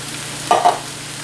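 Light red kidney beans poured from a can into a cooking pot, giving two quick wet plopping bursts close by, with no talking over them.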